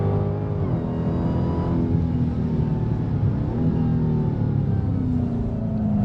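A 2023 Dodge Challenger Black Ghost with a supercharged 6.2 liter V8 runs on a race track, its deep engine drone rising and falling through gear changes with a whining supercharger, loud and continuous from inside the car.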